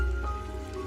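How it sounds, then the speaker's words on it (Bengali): Heavy rain beginning to fall in a village-night horror drama scene, a dense, close hiss of drops pattering on surfaces, steady and unbroken. "বৃষ্টি তখনই জোরে নামতে শুরু করেছে।"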